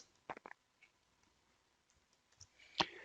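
Faint, sharp computer mouse clicks, a quick pair then a louder single click, with near silence between them while clicking Done on a Workday expense report screen.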